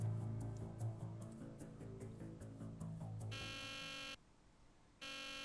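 Alarm buzzer in the video game Nancy Drew: The Deadly Device, a harsh steady buzz starting after some softer game sounds, cutting off briefly and then resuming.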